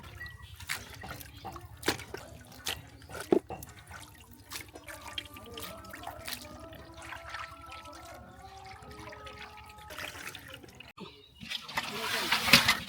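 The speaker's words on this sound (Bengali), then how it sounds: "মুরগির গোস্তগুলো পরিষ্কার পানি দিয়ে ধুয়ে নেওয়া হয়ে গেছে এখন আমি পানিগুলো ঝরানোর জন্য একটা ডালাতে তুলে নিচ্ছি" Water drains from washed chicken meat set in a tray, with sparse drips and small trickles that grow busier toward the end, alongside a voice speaking.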